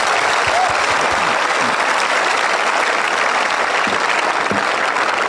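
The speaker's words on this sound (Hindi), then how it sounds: "आप सब आ खातर एक बार तालियां बजाई दो।" Audience applause at a Rajasthani language rally, dense and continuous clapping from a crowd sustained at even loudness the whole time.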